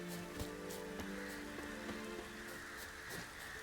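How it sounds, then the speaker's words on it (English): Rain falling in a video game scene, a steady soft patter spread evenly throughout, faint and without voices. "It's raining."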